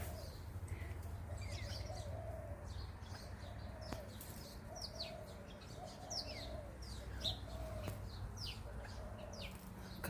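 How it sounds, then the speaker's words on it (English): A small Silvereye calls at a backyard bird bath, with thin high chirps and twitters scattered through the clip, a wing flutter or two, and a steady low outdoor hum underneath. "there's a little Silvereye just at my bird bath."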